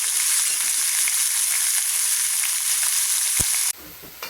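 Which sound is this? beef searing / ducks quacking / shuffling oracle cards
beef searing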